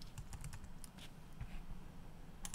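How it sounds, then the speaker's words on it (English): Typing on a computer keyboard while entering a search into Stream Deck software, a scattered run of light, fast key clicks, close and fairly quiet, with no talking. "type in MIDI"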